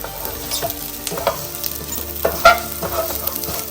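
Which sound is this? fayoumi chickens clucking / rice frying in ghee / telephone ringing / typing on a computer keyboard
rice frying in ghee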